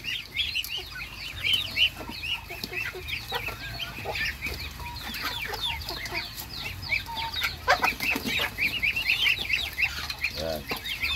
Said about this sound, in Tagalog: Kulit ng mga manok na to.